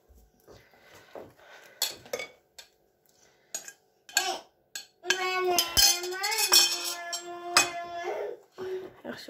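A utensil clinks and scrapes in a bowl as flour is stirred into dough for Uyghur kuymak. The taps and scrapes are irregular and intermittent, with voices and a whiny child-like cry in the middle.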